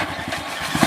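A motorcycle engine running close by with a low, pulsing idle chug that rises slightly at the very end of a brief moment.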